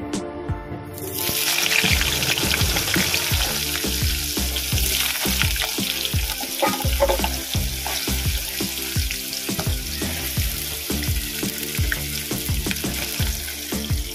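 Cut potatoes frying in a pan, a dense, continuous sizzle close up with regular scraping strokes from stirring throughout. Loud and steady, with no one speaking.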